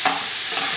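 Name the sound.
ground beef being stirred and fried in a pan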